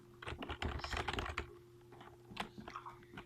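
Computer keyboard typing into an in-game chat during a Roblox game, a fast flurry of close clicky keystrokes, then a pause and a few more scattered taps, with a faint steady hum underneath.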